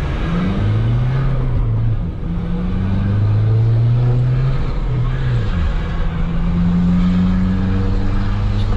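A chipped Volkswagen Amarok 2.0 pickup with a straight exhaust accelerates hard, its engine note rising and falling through repeated revving pulls, loud and close with a raw, droning exhaust tone.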